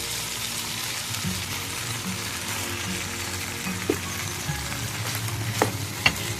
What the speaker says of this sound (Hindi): इसको भी अच्छी तरह मिक्स करेंगे हम।